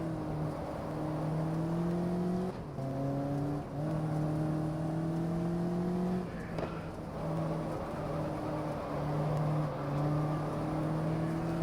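A Lotus race car engine in the video game GT Legends, a loud steady drone that climbs in pitch through repeated gear changes with brief dips between shifts, heard alone without talk.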